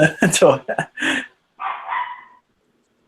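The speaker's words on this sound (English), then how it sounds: "Whose dog is that? That's mine. She's upstairs." A pet dog upstairs barks in several sharp bursts, a little distant, with a short whine-like yip after a pause, amid a conversation among collectors.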